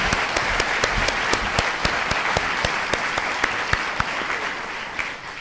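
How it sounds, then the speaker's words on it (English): Audience applause at a celebration event, a dense steady wash of clapping with a few sharper individual claps standing out, sustained evenly throughout. "One more round of applause, please."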